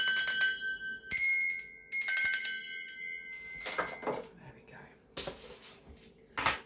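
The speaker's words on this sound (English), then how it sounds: "Now, I'm going to be ringing 2 bells. This is just to cleanse the space around us." Two bells rung to cleanse a room, each giving a bright sustained ring that fades out, followed by soft rustling and a few whispery breaths close to the microphone.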